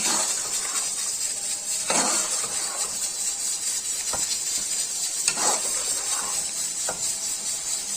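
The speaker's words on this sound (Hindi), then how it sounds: "फिर इसको हम अच्छे से भूनेंगे।" Biryani masala being fried with yogurt in a pot gives a steady sizzle throughout. Several distinct clinks and scrapes of a spoon stirring against the metal pot cut through it.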